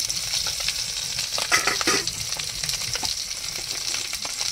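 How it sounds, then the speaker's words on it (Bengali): Fried fish sizzles in a pan as chopped onion and garlic are added and stirred, with steady crackling and scraping strokes close up. "এবার মাছ ভাজা একটু পেঁয়াজ কুচি দিয়ে দেবো"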